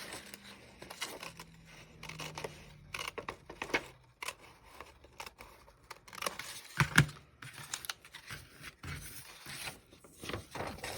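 Scissors snip and crunch through paper in uneven bursts, with rustling and crinkling between cuts, close up and fairly quiet.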